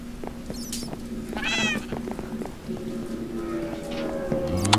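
A cat meows in a video game, a couple of distinct meows over quiet background game sounds with light footstep-like clicks and a low hum.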